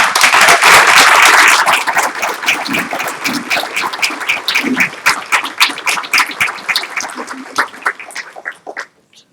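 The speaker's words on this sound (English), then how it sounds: "Let's give them a round of applause" A board of education meeting audience gives a round of applause for the 7A state championship team, loud sustained clapping that peaks early and thins into scattered claps before fading out.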